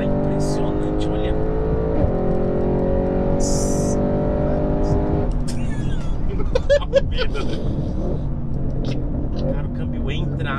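A tuned 2021 Audi RS6 accelerating hard, loud engine roar climbing through the revs, then a gear shift about halfway that drops the tone into a rougher, busier rumble, with a brief high whine earlier.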